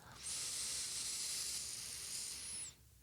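A single long, deep inhale through the nose with the mouth closed, heard as a steady airy hiss lasting a couple of seconds, close to the microphone and fairly quiet, with no talking.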